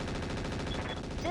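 Machine gun fire from the BattleTech video game with the RogueTech mod: a rapid, loud, continuous rattle of shots with a faint high whine near the end.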